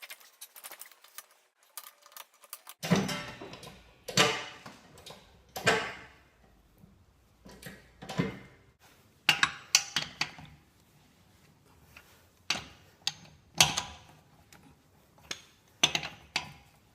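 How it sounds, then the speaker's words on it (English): Wheel iron working loose the bolts on a campervan wheel, giving a series of sharp metallic clanks and ratcheting knocks at irregular intervals, fairly close, with quiet gaps between efforts. "So I'll first pre-unscrew it,"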